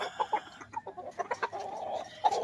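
Young gamecock chickens cluck in quick, close bursts while being given feed, with several birds chattering over one another and no talk.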